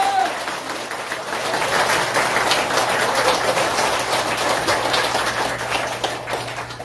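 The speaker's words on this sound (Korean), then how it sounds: "다시 박수, 응원하는 박수." A crowd at a public gathering claps steadily in a dense, sustained burst of applause that swells and then tapers off, with no voices over it.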